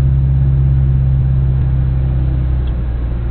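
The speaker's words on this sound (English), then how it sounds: "That exhaust. Oh, that car is nasty." A Saleen S351 Mustang sends out a deep, steady exhaust rumble that holds constant and close throughout, with no voices over it.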